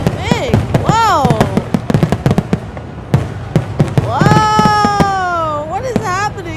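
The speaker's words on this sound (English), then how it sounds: "That was a big firework." Fourth of July fireworks burst with sharp repeated bangs and crackles, while a voice lets out drawn-out excited exclamations over the explosions.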